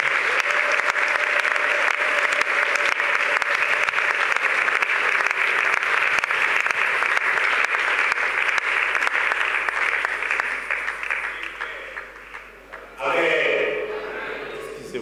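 A church congregation applauding, sustained dense clapping from many hands that holds steady, thins out, then swells briefly again before fading.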